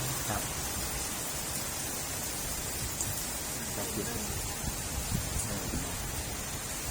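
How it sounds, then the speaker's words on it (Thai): Rain falls steadily at a home in Thailand, a dense, even hiss filling the whole stretch with faint scattered drops and a soft murmur of voices beneath. "อ้าวฝนตกพอดีนะมาบ้านลุงปองนี่ร่มเรื่นมากับสายฝน"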